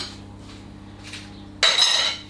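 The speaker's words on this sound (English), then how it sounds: "The only trouble with these hand beater things is getting the cake mix off of them" Cake mix being scraped off the metal beater attachments of a hand mixer while making a cherry cake, heard as a sudden loud burst of clattering, clinking scrapes near the end after quiet kitchen hum.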